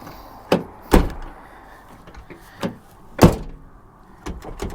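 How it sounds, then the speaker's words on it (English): Car door of a 2001 Chevy Lumina thudding shut, several separate solid slams and thunks at irregular intervals, fairly close and loud against a quiet background. "That door is not freaking closed. It sure is not. It is now."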